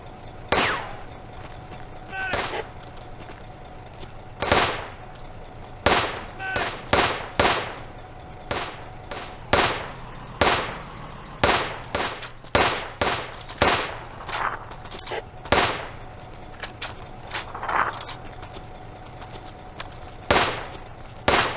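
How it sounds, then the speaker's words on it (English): Gunfire from the WW2 real-time strategy game Firefight: sharp shots and short bursts crack irregularly throughout, some louder and closer, over a low steady background hum. "Open fire! Let's fire at that building."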